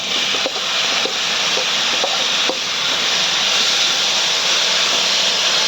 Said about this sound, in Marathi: अशा पद्धतीनं तळून घ्यायची